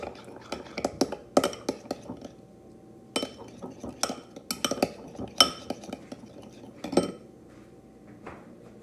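Seasoned carrot fries with Himalayan salt and pepper tossed in a bowl, with repeated clinks and scrapes of a utensil against the dish in an irregular rhythm, close and fairly quiet, no talking.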